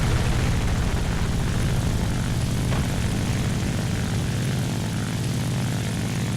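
Propeller aircraft engine in a War Thunder arcade air battle, a loud, steady droning roar that holds constant throughout with no voices.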